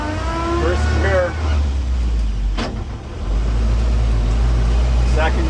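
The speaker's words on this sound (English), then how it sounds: "Okay, so now we're in high range again. First gear," A 1959 Land Rover Series II 109-inch pickup pulls away in first gear in high range, its engine a steady low drone throughout, with a person talking over it in places.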